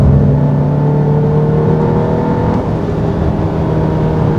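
A seven-seat Volkswagen Tiguan Allspace SUV with a 2000cc gasoline engine accelerates, giving a steady engine drone with road and wind noise heard from inside the cabin.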